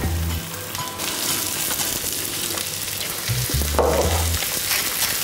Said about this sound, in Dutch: de groentjes wokken